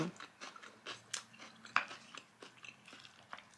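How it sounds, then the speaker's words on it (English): Crunchy raw bell peppers chewed up close, with a series of sharp, crisp bites and crunches repeating irregularly and nothing else around them. "I always enjoy a little bit of crunch with my food, and so I wanted to eat bell peppers"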